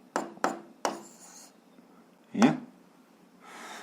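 Pen strokes from someone writing out a math equation for a 7th-grade algebra exercise: three quick scratchy marks, a pause, a longer stroke, then a faint rub, close and quiet with no talking.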